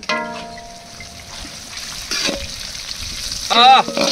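Naga chilies dropped into hot oil in a pan, setting off a loud, steady frying sizzle that swells near the end as they are stirred, close up, alone.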